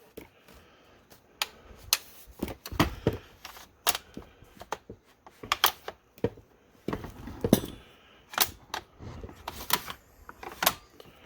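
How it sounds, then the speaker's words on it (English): Enfield P14 bolt-action rifle with the bolt collar removed, its bolt worked back and forth freely in the receiver, giving a series of sharp metallic clicks and clacks in irregular bursts, close and fairly loud with no talking. "So with the collar off, the bolt moves real nice and free."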